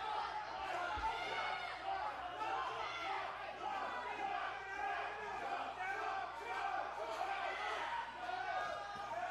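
A wrestling crowd in No More Heroes roars and cheers steadily, a dense swell of shouting voices that stays loud throughout, with an announcer's voice mixed in.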